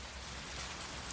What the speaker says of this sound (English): Meanwhile, the rain continues to fall.